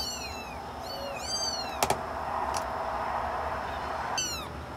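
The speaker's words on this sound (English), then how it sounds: "We keep our cats on our back deck." Several cats kept on a screened back deck meow in a series of high, clear cries, a few close together, with a brief louder knock partway through and soft background noise.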